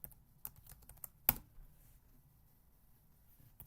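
Someone types code on a computer keyboard in quiet, close, irregular taps with one sharper keystroke among them, and no talking.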